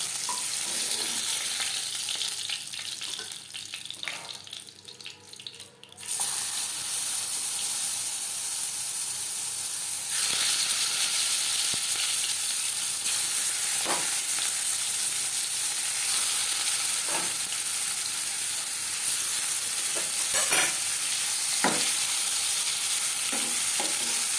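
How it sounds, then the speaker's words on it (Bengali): Rohu fish pieces fry in hot oil in a pan with a steady, loud sizzle throughout, quieter at first and then jumping up in level, with a few short stirring clicks over the hiss. "পরের মাছ একইভাবে ভেজে নেব"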